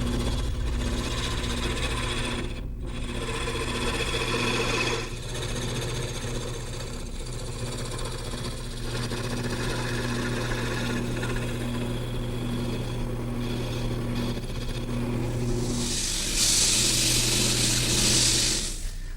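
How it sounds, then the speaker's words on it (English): Wood lathe spinning a chair-leg blank for a high chair while a gouge tapers the legs, a steady droning hum with continuous scraping cut, louder hiss of shavings near the end, no talk. "Now I'll return to the gouge to taper the legs."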